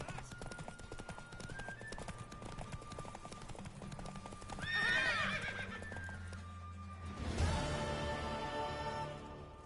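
A horse in The Witcher video game neighing twice in long, loud whinnies over a continuous patter of clip-clopping hooves and game ambience.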